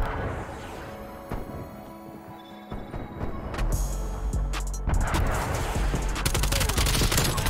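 Rapid bursts of automatic gunfire and sharp single shots crackle through a Black Ops Cold War match on the Nuketown map, with shots piling up densely and growing louder toward the end.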